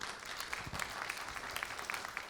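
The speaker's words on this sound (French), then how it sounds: "applaudissez pour elle" Audience applause at a film-related talk, a steady, fairly faint round of clapping from a gathered crowd, continuous with individual claps standing out.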